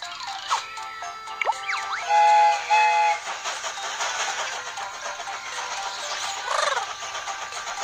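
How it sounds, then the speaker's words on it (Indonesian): A cartoon train departing, with a couple of short high whistle toots and chugging rail sounds layered with bright music-like effects, fairly loud and steady throughout. "Kereta ini akan segera berangkat."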